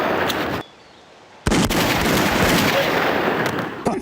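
Video game gunfire aimed at enemies: dense, loud bursts of rapid shots and blasts, cutting out briefly to near silence before resuming in a sustained barrage.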